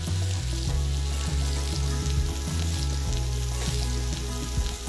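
A steak frying in a pan with a knob of butter over lowered heat gives a close, continuous sizzle that holds steady throughout without a break.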